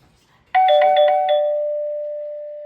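Alert tone number 1 from an X-Sense smart mailbox alarm base station: a quick run of bright electronic chimes that ends on a sustained ringing tone slowly fading, clear and close.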